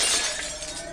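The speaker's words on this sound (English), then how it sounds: "The silver bullet smashed through that invisible wall." A shattering, glassy crash from a visual-novel game as a silver bullet smashes through an invisible wall, bright and crackling, heard alone for under a second.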